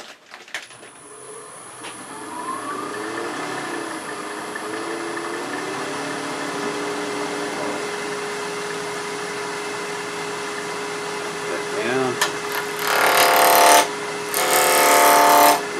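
A wood lathe spins up with a steady motor hum while a roughing gouge starts cutting a wooden coffee scoop blank, ending in bursts of louder, rough chattering cuts.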